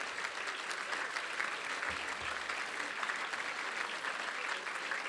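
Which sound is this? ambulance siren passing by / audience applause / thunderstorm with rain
audience applause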